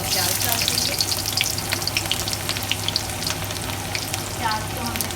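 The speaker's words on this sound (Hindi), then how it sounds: "तो ये अच्छा खासा गर्म है। अब हम इसमें प्याज डाल देंगे।" Onions sizzle steadily in hot oil previously used for frying pakoras, a dense close crackle with scattered pops continuing throughout.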